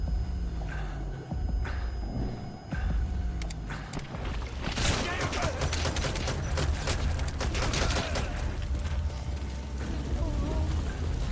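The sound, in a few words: shotgun fire in Metal Gear Solid V video game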